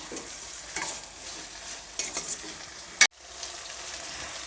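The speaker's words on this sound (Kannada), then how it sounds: "ಇವಾಗ ಟೊಮೊಟೊನ ಎರಡು ನಿಮಿಷ ಸಾಫ್ಟ್ ಆಗೋವರೆಗೂ ಫ್ರೈ ಮಾಡ್ಕೊಳ್ತೀನಿ" Tomatoes sizzle in a pan during tempering for a bansi rava upma, with repeated scraping stir strokes over a steady fry hiss and a sharp knock near the end, and no speech.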